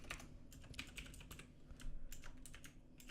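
Rapid keystrokes on a computer keyboard, close and fairly loud, tapping out a short run of irregular clicks with no voices.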